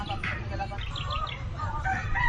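Birds call repeatedly at a beach campsite in Calatagan, Batangas, with a rooster-like crowing and chirping standing out moderately loud over steady low outdoor rumble.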